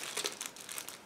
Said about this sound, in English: And now let's start from this plastic bag